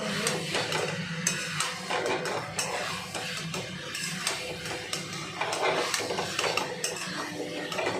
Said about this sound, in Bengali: কুকারটা দিয়ে একটু নাড়িয়ে দিই। নাড়িয়ে এটা আমি নাড়িয়ে দিই, নাড়িয়ে দিই।